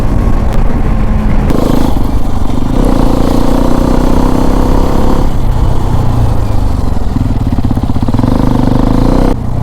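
A motorcycle in sixth gear cruising at around 90 on a road toward a waterfall, its engine droning loud and close with rising and falling pitch as the throttle shifts, plus wind buffeting.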